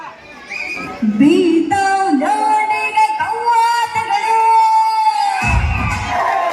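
A crowd at a Kannada Rajyotsava celebration in Goa cheers and shouts together in loud, sustained voices, with excited calls rising over the din and a low thump near the end.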